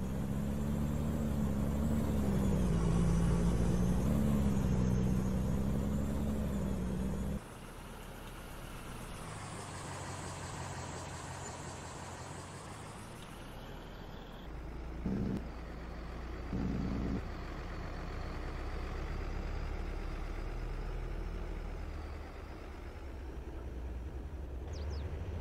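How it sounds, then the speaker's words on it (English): A Western Star truck in Farming Simulator 22 drives with a steady diesel drone that shifts in pitch as it changes gear, with brief hissing bursts partway through and no voices. "Western Star is gonna head right on over to get a full truckload of fill"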